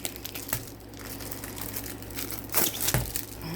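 Crinkling and rustling of a plastic bag being opened around a boxed Paint Someway craft kit, with steady crackles and a louder crunchy burst near the end, close to the mic and without talk.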